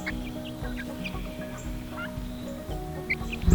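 Two-month-old turkeys gobble and cluck repeatedly at close range, with chicken chatter layered in and a louder burst near the end.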